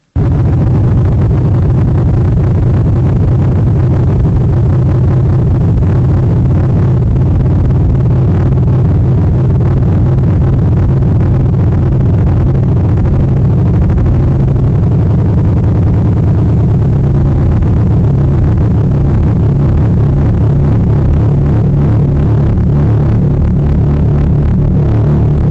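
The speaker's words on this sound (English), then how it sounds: "and this is the sound of the sun." Solar oscillations turned into audible sound: a steady, loud, dense low rumbling drone with layered tones, continuous for the whole stretch and without any voices.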